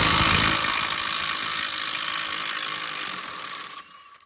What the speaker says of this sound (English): since we already loosened it, I'm just gonna use a 3/8 gun.